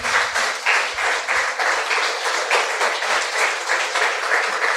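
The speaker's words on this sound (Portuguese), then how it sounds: "Aplauda o Senhor Jesus" Church congregation clapping during a sermon, a thick, continuous wash of many hands at an even rhythm, steady and moderately loud throughout with no voices on top.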